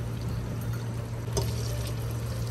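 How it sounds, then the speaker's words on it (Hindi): Half a litre of water pours into a pot of mutton karahi, a steady close gurgling stream lasting a couple of seconds over a low background hum. "1/2 लीटर हम शामिल कर रहे हैं पानी"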